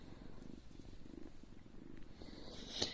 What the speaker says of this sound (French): Il ronronne par contre. Écoutez.